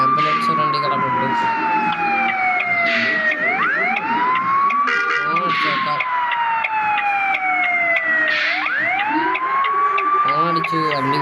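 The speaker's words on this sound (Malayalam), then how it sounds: "ഒരു ആംബുലൻസ് വണ്ടി കിടപ്പുണ്ട്" An ambulance siren in the Bus Simulator India game wails loud and close in long sweeping rises and falls that repeat several times, with someone talking over it.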